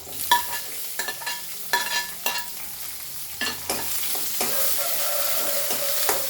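Green chilies and onions sizzle in a hot pan as a spoon stirs and scrapes them, sharp clinks and scrapes in short bursts over a steady close frying hiss, with no talking.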